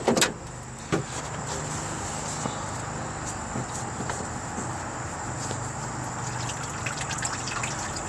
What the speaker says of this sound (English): I unscrew it about halfway, let it finish draining, and then do it the rest of the way, just to try to minimize the mess